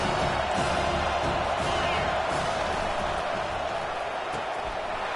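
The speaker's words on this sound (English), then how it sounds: "Decibels rising as the crowd gets behind this defense on third down." A stadium crowd roars steadily behind the defense on a football third down, a dense, continuous wall of cheering and noise that holds loud throughout.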